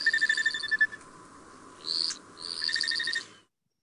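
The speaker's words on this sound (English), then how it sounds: "And then the buzzing sound in that is actually made by the wings." A played recording of a small male hummingbird's courtship display, with rapid pulsed chirps from the spread tail and a brief wing buzz in the middle, then more pulses. It is fairly faint and clean, with no voices.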